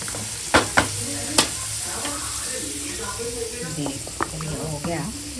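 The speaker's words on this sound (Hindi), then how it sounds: "और ये आलू तल रही हूँ कोरने में डालने।" Potatoes fry in oil with a steady crackling sizzle close by, broken by a few sharp pops and scrapes, while someone talks over it.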